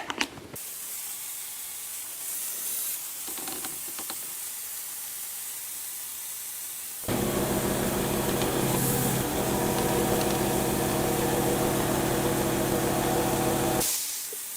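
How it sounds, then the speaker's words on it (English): A vacuum bleeder drawing brake fluid from a Honda front brake master cylinder, a continuous airy hiss that grows louder and steadier partway through, then stops abruptly near the end. "we're going to suck this brake fluid down and out until we get a nice firm lever"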